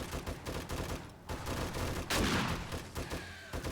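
Loud gunfire from a pump-action shotgun fired at point-blank range in the survival game 7 Days to Die, sharp blasts within a noisy rush of combat sounds, with no clear talking.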